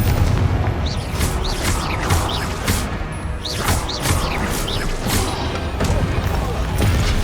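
Confringo blasting spells from Hogwarts Legacy burst in a dense, loud series of booms and crashes, one after another across the whole stretch, with a voice talking over them.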